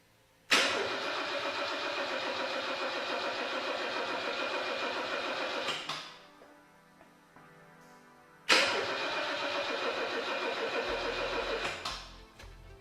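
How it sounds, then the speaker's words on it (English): A Mercedes W123 engine cranks without catching in two long, loud bursts of rhythmic starter churning, each lasting about five seconds, with a quiet pause between them. "It's cranking, but it's still a no-go."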